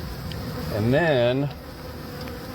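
Honey bees buzzing around a hive in house eaves, with one close bee droning past in a rising and falling pitch over steady background hum; a voice briefly speaks.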